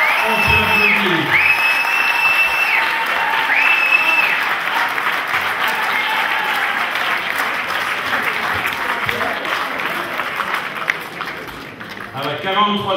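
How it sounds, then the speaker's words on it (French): Crowd applauding steadily during a list announcement of candidates, clapping sustained and dense before fading slightly near the end, with a voice speaking over it at the start and close. "On peut l'applaudir"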